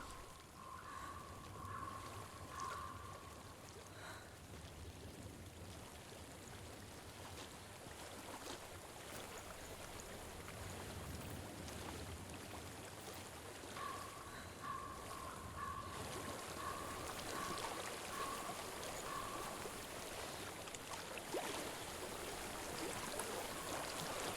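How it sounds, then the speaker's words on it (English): Flowing water in the video game Hellblade: Senua's Sacrifice, a faint, steady rushing wash that continues without a break, with a soft tonal hum rising twice in the background. "I hear water."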